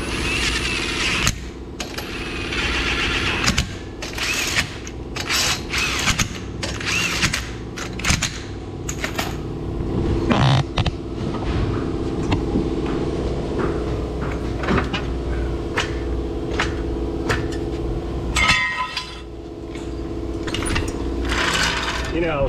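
Click-type torque wrench tightening lug nuts on a Toyota Prius wheel, giving a series of sharp, close clicks in irregular groups over workshop noise, with a person talking between them.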